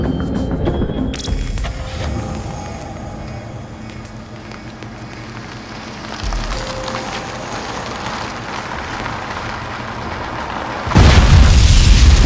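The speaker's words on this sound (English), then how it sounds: "When an explosion impacts a vehicle" A mine blast goes off under an armored vehicle as a deep, rumbling roar, swelling and subsiding over several seconds before a sudden loud burst at the end; no speech.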